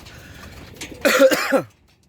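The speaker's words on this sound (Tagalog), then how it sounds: "Ubo pa." A quiet murmur, then a short burst of loud, harsh coughing, two or three rough hacks close up, fading to silence.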